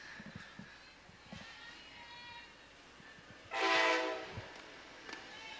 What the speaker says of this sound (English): the passenger train passed along the background here in San Marcos